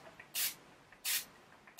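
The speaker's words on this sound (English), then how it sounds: "I'm going to use the Urban Decay All Nighter Setting Spray." Two short bursts of Urban Decay All Nighter setting spray misted onto a face, crisp airy hisses about two-thirds of a second apart, close and clear against near silence.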